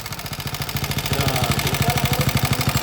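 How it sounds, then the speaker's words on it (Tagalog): An old car engine runs noisily up close, its rapid rhythmic chugging pulses clattering and growing slightly louder partway through, with no voices over it. "Ayun, napakinggan na natin mga kabro yung andar niya. Mga kabro, napakaingay."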